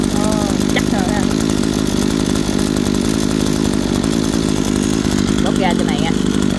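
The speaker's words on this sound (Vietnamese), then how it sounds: "Nghe tiếng máy là khác liền nha." A Kawasaki TH26 brush cutter engine runs at a steady, loud, buzzing two-stroke idle close by, with someone talking over it.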